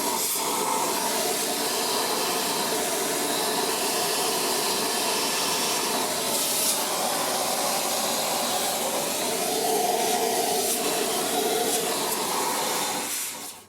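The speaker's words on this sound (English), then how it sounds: "just get the vacuum cleaner in there" A steady, broadband vacuum cleaner roar runs continuously at close range while cleaning the air filter area of a Honda Transalp 700 motorcycle, with a faint shifting whine, then cuts off at the very end.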